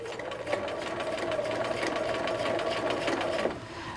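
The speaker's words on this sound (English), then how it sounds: "we are sewing very close" A sewing machine stitching a hem facing on a McCall's 7862 garment, a steady close whirring hum that runs continuously for several seconds before stopping.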